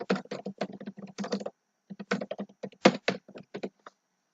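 Fingers type a caption on a computer keyboard, giving two quick bursts of close, crisp key taps separated by a short pause, with no talk.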